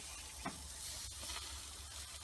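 Bacon and shrimp skewers sizzle on a grill as the fat renders: a soft, steady hiss, faint and continuous, with no voices.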